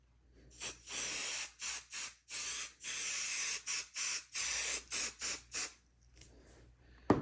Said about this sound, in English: I take my spray and I lightly spray this side